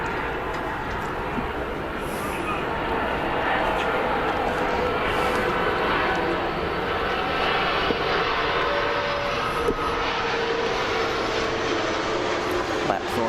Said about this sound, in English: Choosing to let that big airplane kind of pass by, taking his time there.